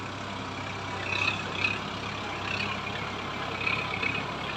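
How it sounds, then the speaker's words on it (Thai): A road grader reshapes the ground at an elephant camp, its heavy engine rumbling steadily at a middle distance with a few faint swells, no voices heard. "กำลังมองดูรถเกรดอยู่"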